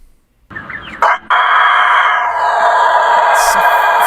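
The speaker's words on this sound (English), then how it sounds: "It's a fucking rooster scream." A rooster crows loudly and close, one long, strained cock-a-doodle-doo that fills nearly the whole span after a short quiet start.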